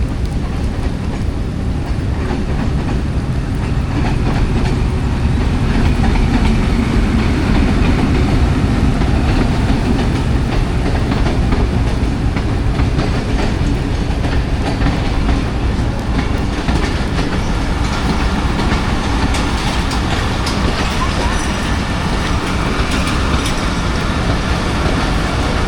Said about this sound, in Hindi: 40 डाउन जाफ़र एक्सप्रेस भी आ गई है ZCU20 6429 के साथ